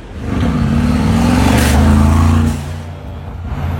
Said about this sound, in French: Oh, le son de la dump valve.